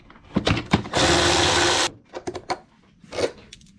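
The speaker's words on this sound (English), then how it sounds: "You're now going to remove these two 12mm bolts, which these are not reused." Two 12mm bolts come off a 2016-2017 Honda CRF1000L Africa Twin during a rack install. Short ratcheting clicks give way to a steady, loud mechanical whir of about a second, followed by a few more scattered clicks.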